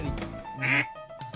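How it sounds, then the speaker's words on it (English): Duck calls blow a series of nasal, raspy quacks up close during a waterfowl hunt, several short honks in quick succession, loud and alone. "Of course, we've got our duck calls from Real Calls, and Don's."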